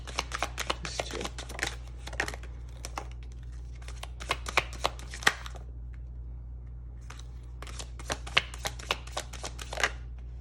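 Tarot cards being shuffled by hand in repeated bursts of crisp riffling and slapping, close and fairly soft over a steady low hum, with short pauses between bursts and no talking.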